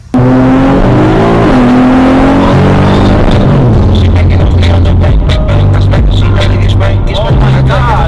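A 2024 BMW G80 M3 engine roars loud and close, its pitch sweeping up and down through hard revs before dissolving into a rough, harsh mechanical clatter that runs to the end.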